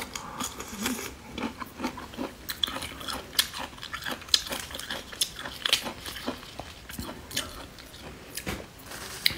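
Close, wet chewing and crunchy bites of Chinese food topped with Lao Gan Ma chili sauce, with a vinegar soup, in a steady stream of squishy mouth sounds and small crunches and no talking.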